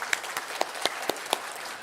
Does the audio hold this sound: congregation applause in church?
yes